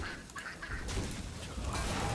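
Duck quacking from the Hearthstone card game, a few short nasal honking calls in quick succession over a faint background hum, close and moderately loud.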